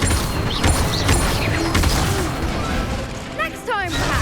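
Incendio fire spell in the video game Hogwarts Legacy, set within combat: dense mechanical clatter, crackling bursts and rumbling impacts, with whooshing magical sweeps near the end, loud and continuous.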